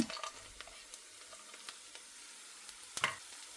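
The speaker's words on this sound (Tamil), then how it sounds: "வெங்காயம், பச்சை மிளகாய், அப்புறம் கருவேப்பிலெல்லாம் ஆட் பண்ணி நல்லா வதக்கி விட்டேன்" Onions, green chilies, curry leaves and cashews fry quietly in oil, a soft steady sizzle broken by light scattered clicks and spatula taps, with one sharper scrape near the end.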